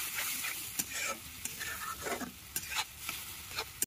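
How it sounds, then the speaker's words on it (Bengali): Masala for Bombay duck fish bharta is stirred and sautéed with a splash of water on a traditional earthen stove, the spoon scraping in quiet, irregular strokes over a soft sizzle. "জল দেব একদম অল্প, জল দিয়ে মশলাটাকে ভালো করে কষাবো"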